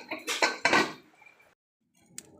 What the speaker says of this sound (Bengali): এবার চাপা দিয়ে রেখে দেবো।